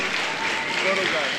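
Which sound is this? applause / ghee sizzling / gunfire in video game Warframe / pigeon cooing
applause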